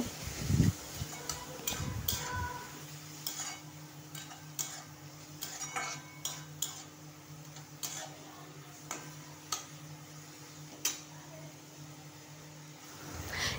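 Metal spoon stirring chopped pointed gourd with salt in a pan, a series of sharp clicks and scrapes at irregular intervals over a faint background hum.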